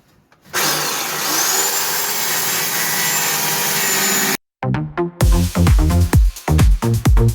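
A small grinder cuts through welded corners on a classic Mini body, giving a loud, steady, high whine for several seconds before stopping, followed by short bursts of banging and scraping nearby.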